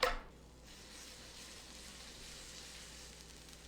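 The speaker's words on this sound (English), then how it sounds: "Get a pan on medium heat, add a touch of oil, toss your ham steak straight in." A ham steak sears in a film of oil in a pan over medium heat, giving a steady, close sizzle that flares briefly as it hits the fat and then settles into a constant crackle.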